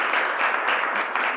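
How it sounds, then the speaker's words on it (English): Brief, dense clapping from an audience at a speech during a school gathering, steady and moderately loud for just over a second. "So that deserves a round of applause."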